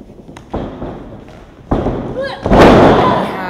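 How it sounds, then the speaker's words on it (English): At a women's wrestling event, a wrestler's drop kick lands in the ring with sharp thuds and slams on the mat, then a loud burst of crowd noise while a commentator talks. "hitting that drop kick"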